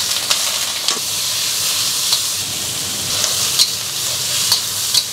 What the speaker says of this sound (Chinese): 五花肉下锅，